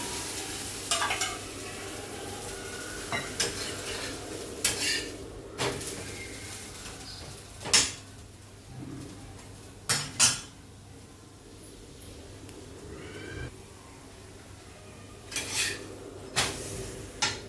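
Dhapate flatbread fries in oil on a pan over high heat, crackling and sizzling close by while a spatula knocks and scrapes the pan in irregular bursts; no one speaks.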